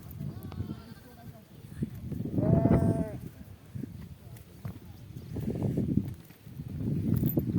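A herd of goats and sheep bleats in a field, several wavering calls rising over a constant murmur of the flock and shuffling hooves, with a few near and loud voices and others fainter.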